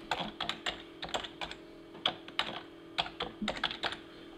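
A keyword gets typed on a computer keyboard, with close, quiet key clicks in short irregular runs separated by brief pauses and no talking.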